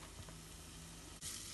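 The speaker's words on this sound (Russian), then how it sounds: "Лук и чеснок слегка подрумяним." Onion and garlic sizzle gently in a spoonful of vegetable oil in a heavy-bottomed pot, a faint, steady frying hiss with no voices.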